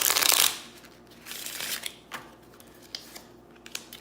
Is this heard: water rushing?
no